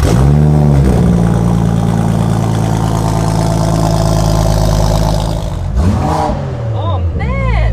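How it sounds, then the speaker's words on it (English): A concept car's engine revs hard through its exhaust, a loud sustained roar with rising and falling pitch sweeps, swelling again near the end as excited voices break in. "I think everyone just wants to hear what it sounds like, right? Because we do. The exhaust is on that side."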